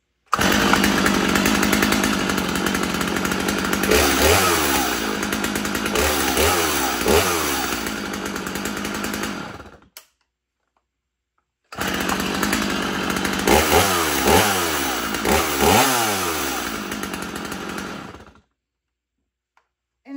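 Two Stihl chainsaws, an MS250 Wood Boss and an MS291 Farm Boss, run loudly in two separate bursts of roaring engine noise with repeated throttle revs, separated by a short silence.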